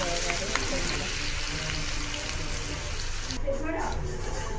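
Garlic chili chutney paste sizzling and frying in a hot pan, a dense close crackle with stirring scrapes, dropping off sharply near the end as the heat or stirring stops.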